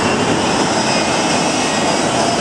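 Jet engines roar on the Shockwave jet truck, a three-jet-engine truck at the 2010 Cherry Point Air Show, giving a loud, steady, broadband rush that holds unbroken throughout without voices.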